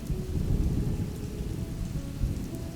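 Heavy monsoon rain pours steadily over a city during the Sawan season, a dense low rumble of thunder rolling beneath the constant downpour.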